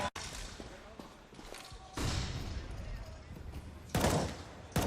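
Gunfire in a professional Counter-Strike: Global Offensive match, Team Liquid against Astralis at ESL One New York 2019, with several sharp bursts of shots in quick succession over loud arena and caster noise.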